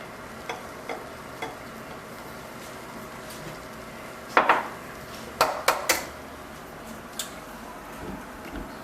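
Gnocchi dough is mixed with egg yolk in a bowl: faint, scattered clinks and taps of a utensil against the bowl, with a brief cluster of sharper knocks midway, over a quiet room.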